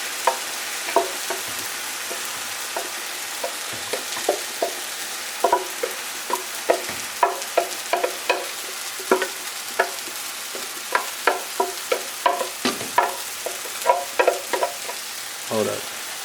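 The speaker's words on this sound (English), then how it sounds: "Got the nopales cooking." Nopales sizzle and crackle in a hot pan, with frequent sharp pops and spatters scattered throughout and occasional scraping stirs, close and fairly loud.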